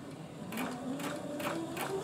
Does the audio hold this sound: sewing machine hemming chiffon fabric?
yes